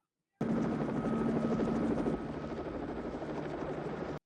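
Steady loud helicopter rotor drone, close and continuous, with a slight drop in level partway through.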